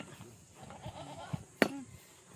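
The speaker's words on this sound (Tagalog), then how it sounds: "Ang ganda ng katawan ng kambing na to" A goat bleats once, a short sharp cry near the end, amid quiet Tagalog talk and faint rustling nearby.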